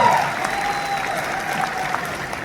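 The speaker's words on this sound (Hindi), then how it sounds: "एक बार शशि जी के लिए जरूर ताली बजा दे" An audience at a formal Indian public event claps in sustained applause, a dense, even patter of many hands held at a steady level throughout, with faint tones ringing over it.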